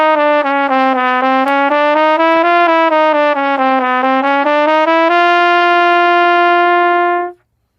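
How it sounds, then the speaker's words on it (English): A trumpet plays a chromatic scale by stepping through all seven valve positions, giving clear, loud, sustained notes that move down in small steps and end on a long held tone before stopping. "if we play all 7 of the positions in succession, we get what is called the chromatic scale"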